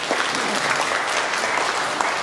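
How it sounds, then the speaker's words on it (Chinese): An audience at a temple ceremony planning meeting in Yangmei claps steadily for a couple of seconds, a dense, even patter of many hands filling the room. "跟他鼓掌一下"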